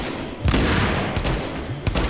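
Loud bursts of gunfire from the video game The Division, with sharp shots around half a second, 1.2 seconds and near 1.9 seconds over a dense, continuous rumble of combat noise.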